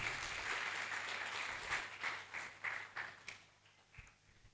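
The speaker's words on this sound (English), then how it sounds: "Please, a round of applause as he sits." An audience at a live show applauds as a professor sits down after his speech, steady clapping that is faint and somewhat distant, thinning into a few scattered claps before fading out.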